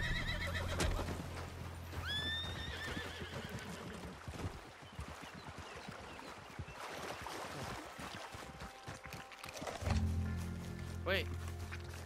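Horses on a farm in the video game Red Dead Redemption 2 whinny and neigh a few times amid hoof clip-clops and ambient noise, with a voice talking at moments.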